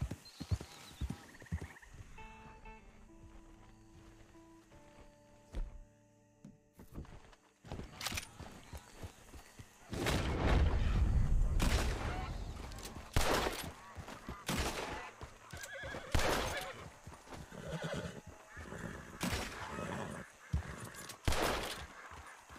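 Horse hooves clip-clop and a horse whinnies in the video game Red Dead Redemption 2, the mare's hoofbeats thudding in uneven bursts over ambient outdoor sounds, with louder stomping and movement later in the clip.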